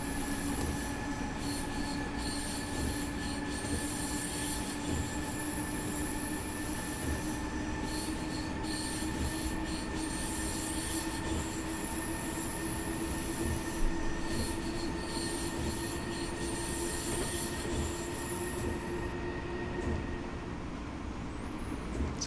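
A simulated S-Bahn commuter train runs steadily along the track toward Weilheim, with a continuous metallic wheel squeal and rail hum that hold at a moderate, even level throughout, no voices.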